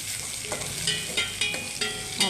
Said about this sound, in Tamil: அரிஞ்சு வச்சுருந்த கத்திரிக்காயை நம்ம இந்த எண்ணெயில் போட்டு வதக்கணும்